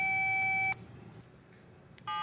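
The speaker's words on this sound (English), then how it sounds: "Your phone is programmed to unlock by pressing 1, 2, 3." Keypad beeps from a 1995 Motorola flip-style pocket cellular phone: a long, steady electronic tone, a short pause, then a second, shorter beep, loud and clear with no speech.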